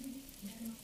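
Battered mushrooms frying in hot oil, a steady soft sizzle running under faint background noise, close but fairly quiet.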